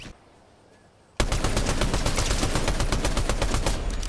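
Rapid automatic gunfire in a Fortnite Zero Build solo match, a dense burst of closely spaced shots that erupts suddenly after a quiet moment and keeps hammering loud and near.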